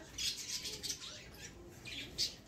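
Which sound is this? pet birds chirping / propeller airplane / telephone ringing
pet birds chirping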